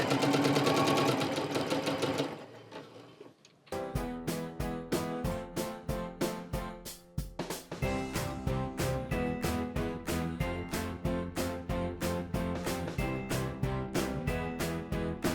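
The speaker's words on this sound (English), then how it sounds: "Now we've sewn all the way across" A sewing machine stitches across a fabric crayon roll, starting with a whirring run, pausing briefly, then resuming a loud, steady, fast rhythmic chatter of needle strokes close by.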